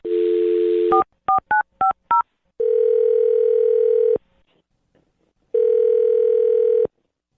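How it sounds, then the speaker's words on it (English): A telephone line gives a dial tone, then a quick string of touch-tone beeps as a number is dialed, followed by two long ringback tones with silence between, loud and alone. "I'm gonna dial his phone number right now."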